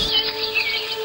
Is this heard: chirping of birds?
yes